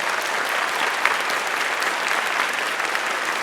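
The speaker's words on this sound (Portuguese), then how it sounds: "eu vou pedir aqui que você possa dar uma salva de palmas de agradecimento" Applause of thanks from an audience at a theology gathering in a church, a dense, even wash of many hands clapping at steady loudness with no voices over it.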